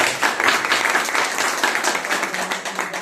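Audience applause at a business plan presentation, a dense, steady wash of many hands clapping together, fairly loud and close, holding evenly for about three seconds with no talk over it.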